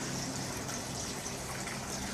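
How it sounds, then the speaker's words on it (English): Water spilling overboard from the air-conditioning discharge of a 2012 Bayliner 255SB boat, a steady faint splashing gush that continues unbroken. "Pulls water from the bottom of the boat and then goes through the air conditioning and spits it out there."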